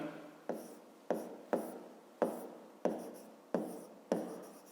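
A pen writing on paper during a fifth-grade maths exercise makes short scratchy strokes, about eight of them in a regular rhythm, close and quiet with no talking.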